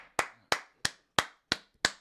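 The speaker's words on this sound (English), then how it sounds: "we got to clap it up" Six sharp hand claps ring out alone at an even, unhurried pace, each crisp and close with a brief decay before the next.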